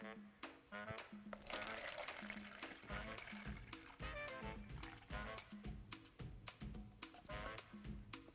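Water trickles and splashes into a measuring cup at a prop-making workbench, a faint, uneven pour broken by clunks and handling noises.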